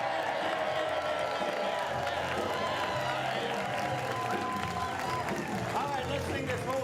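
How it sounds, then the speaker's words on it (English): Audience at a community celebration gathering clapping and cheering, mixed with crowd noise and voices, with music or singing running over it at steady loudness throughout. "So everyone give a big old cheer for Matthew Fox."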